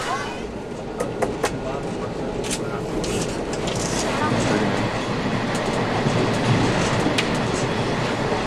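Train running through India after departing Varanasi on a long journey, a steady loud rumble of wheels and carriage noise with scattered clicks and rattles throughout.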